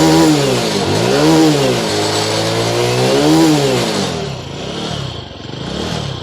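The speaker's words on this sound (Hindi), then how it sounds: "एक बार मैं ऐसे रेस करता हूँ।" A BS6 TVS Star City Plus motorcycle engine, being checked for a starting problem, revs up and down in several repeated waves, loud and close, the throttle rising and falling without any talk.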